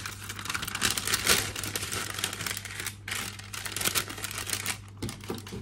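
Parchment paper crinkles and rustles continuously up close, with brief pauses between handling, over a faint background hum.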